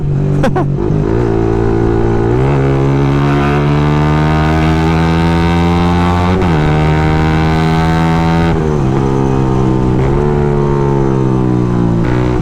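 A motorcycle engine while riding at night, close and loud, its tone rising steadily through several gear shifts, each change marked by a brief drop before the pitch climbs again, with no voices.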